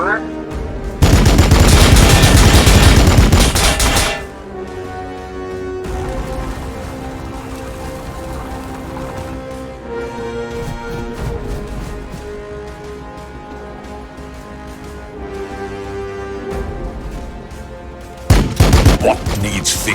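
Blood Angels units open fire in the video game Warhammer 40k: Battlesector: a loud, dense burst of automatic gunfire, then a quieter stretch under game music, then another burst at the end.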